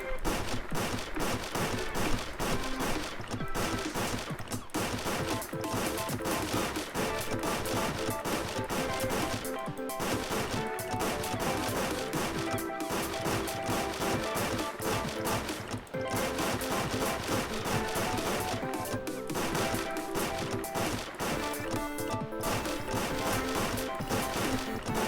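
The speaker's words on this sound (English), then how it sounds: "shoot the Chip-O-Mats." Continuous video game shooting at Chip-O-Mats in Tyke & Sons: dense, rapid gunfire-like blasts mixed with music and effects, loud and unbroken throughout.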